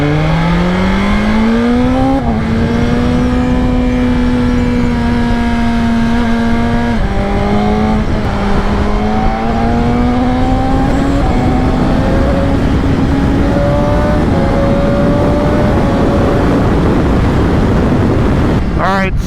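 A 2025 BMW M1000XR motorcycle being ridden, its engine climbing through the revs with several gear shifts, loud and close under steady wind roar.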